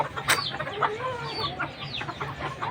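A rooster and several hens cluck close by in a run of short, uneven calls with one sharp squawk near the start, fairly quiet overall and with no talking.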